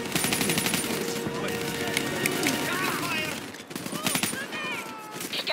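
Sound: cover fire gunfire in video game Call of Duty Black Ops 3

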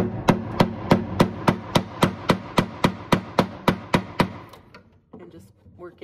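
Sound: chisel working wood on an old dresser

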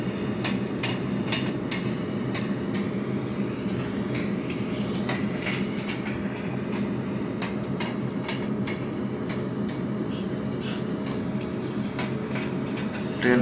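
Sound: Patliputra Express train running in MSTS Open Rails simulator video game

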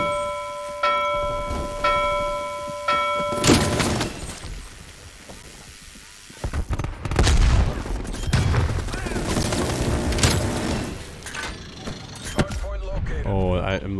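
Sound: AK-47 gunfire in Call of Duty Cold War video game

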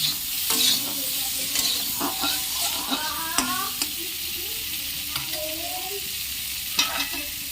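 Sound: paneer pieces being lightly fried and stirred

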